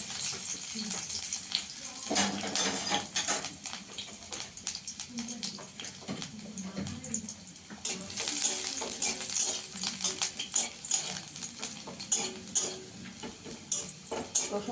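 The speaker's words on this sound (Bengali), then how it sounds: "আমি ঘিয়ের মধ্যে একটু রসুন দিয়ে দেবো, রসুন কুচি করে রেখেছি, দিয়ে দেবো।" Chopped garlic sizzles in hot ghee for dal fry, a soft steady frying hiss under light clinks of a spoon against the pan, with faint scattered crackles.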